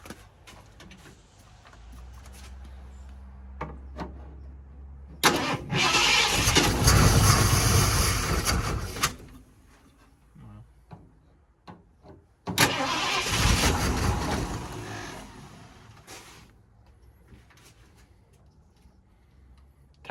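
A 1967 Ford F250 Highboy pickup with a four-barrel carburetor cold starts twice, each crank catching into a loud, rough, uneven run for a few seconds before cutting out, with quiet clanks and shuffling in between.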